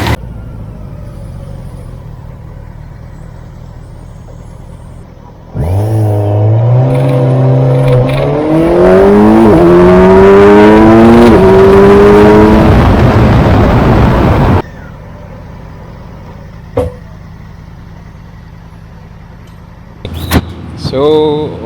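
After quiet idling, a 2022 Kawasaki Versys 1000 SE motorcycle engine revs up loudly with rising and falling pitch for several seconds, then drops back to a low idle with brief clanks.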